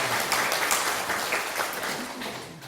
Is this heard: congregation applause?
yes